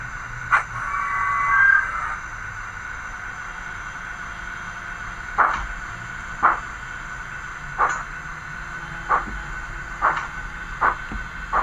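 Bachmann GWR 94xx model tank locomotive with DCC sound running in reverse, a steady electronic hum with a tone at the start and a series of regular chuffing beats coming closer together, close and fairly loud.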